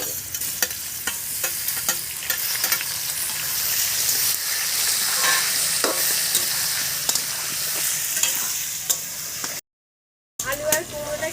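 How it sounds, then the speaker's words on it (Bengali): Pumpkin and potato pieces fry in hot oil in a pan while being stirred, a steady close sizzle broken by frequent scraping strokes of the spatula, with a brief dropout near the end before the sizzling resumes. "এবার আমি কুমড়োটাও ওর মধ্যে একটু দিয়ে ভেজে নেব একসঙ্গে"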